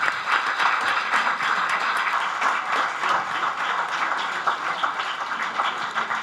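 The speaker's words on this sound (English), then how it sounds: "Please give a big round of applause." An audience at an academic conference applauds an award announcement, with continuous, fairly dense clapping at an even level from start to finish.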